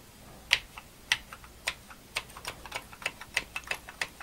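Keys on an Atari 800XL computer keyboard being tested one by one: sharp, close clicks in an uneven rhythm of about a dozen presses, each a distinct tap with nothing else audible.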